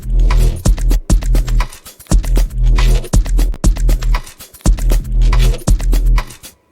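Deep garage bass synth run through a Vocodex vocoder patch in modulator mode pulses in loud, rhythmic throbbing notes with a gritty, vocal-like upper texture, repeating in short bars with brief gaps.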